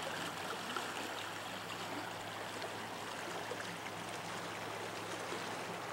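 The Copper River in Alaska flows steadily as a broad, continuous rush of water, moderately faint and unchanging, with no voices.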